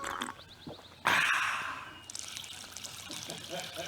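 Liquid Death mountain water poured from its can, a sudden splashing gush that settles into a steady trickle and fizzing patter for a few seconds, close and fairly loud.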